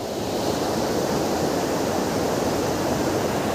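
Diverted floodwater rushes steadily past after heavy rain near Sattichaur, split between two channels at a cut roadway, a loud continuous broadband roar with no voices.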